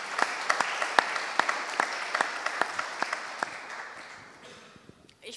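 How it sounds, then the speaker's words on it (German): Audience applause at a panel event with football referees, scattered distinct claps over a soft crowd wash, gradually fading out toward the end. "ja, da ist ein Applaus wert."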